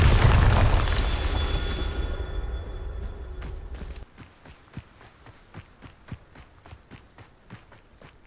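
A loud Bombarda blasting-spell explosion in Hogwarts Legacy booms and rumbles for a few seconds, then fades into a run of crisp, evenly spaced footsteps.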